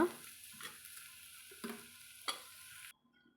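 Amaranth greens stir-fry in coconut oil being stirred in a pan, with a faint sizzle broken by three or four sharp spoon scrapes, close and quiet.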